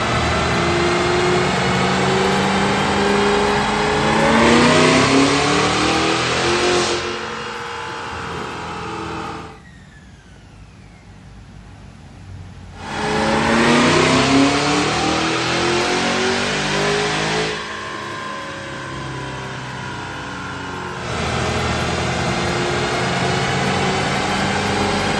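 A Cadillac Escalade V fitted with an aftermarket bigger cam revs hard on a dyno, loud engine roar rising through repeated pulls with a brief quiet dip near the middle before climbing again.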